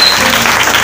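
Congregation applauding in a church service to acclaim the king, a dense, steady wash of clapping at close range throughout, with no one speaking over it.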